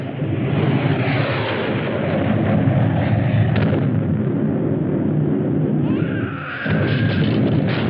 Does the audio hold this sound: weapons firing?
yes